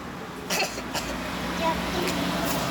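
A child coughs outdoors on a street, two short, soft coughs close together near the start, over steady background noise.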